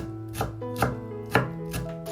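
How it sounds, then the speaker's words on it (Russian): Parsley being chopped very finely with a knife on a board: a steady series of sharp, evenly spaced cutting thuds with music playing underneath. "Очень мелко измельчаю петрушку."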